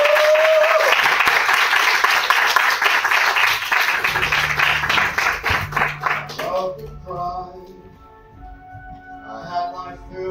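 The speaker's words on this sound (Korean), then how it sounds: "큰 박수로" Warm applause from an audience welcoming a speaker to the stage, loud at first and then thinning out as music with singing takes over.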